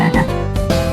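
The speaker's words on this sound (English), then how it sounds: "Frog." A frog croaks in a single loud, close, raspy burst lasting about a second, heard alone without any voices.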